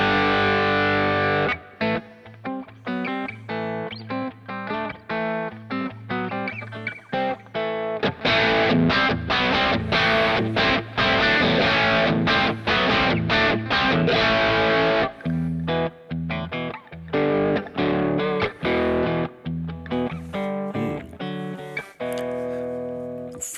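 Electric guitar run through a Klon-style drive on a Kemper Profiler, played as loud, continuous riffs and ringing chords with crisp overdrive and short pauses between phrases, no talking.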